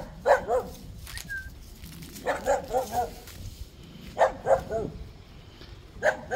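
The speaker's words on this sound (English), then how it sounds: "Neighbors have a little dog." A neighbors' small dog barks outdoors in a residential yard, several short yappy barks in scattered bursts at moderate distance, with a bird chirping briefly and faint background quiet between barks.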